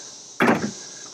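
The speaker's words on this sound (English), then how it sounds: "see the door locks working?" Power door locks on a Jeep Grand Wagoneer actuate with a single short, close clunk, alone against a quiet background.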